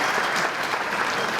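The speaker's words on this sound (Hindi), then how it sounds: "तालियां" A short burst of dense, continuous applause from an audience at a staged comedy performance before ministers, steady and moderately loud throughout.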